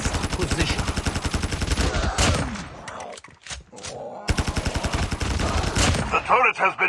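An automatic turret in the mobile shooter Call of Duty Mobile fires loud, rapid bursts of gunfire, with a brief lull in the middle before another fast, close volley.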